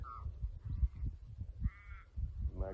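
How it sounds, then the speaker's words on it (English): Magpies call in the Tasmanian mountains, with a few warbling, fluting calls at moderate distance over low, rumbling background noise. "Magpies flying around. Yeah, the birds are all active. The birds are all talking."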